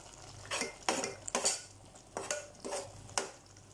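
A spoon scrapes and clinks against a pot as ground coconut paste is stirred into a Tamil egg curry, several separate scraping strokes in a loose rhythm, close and fairly quiet, with no voices.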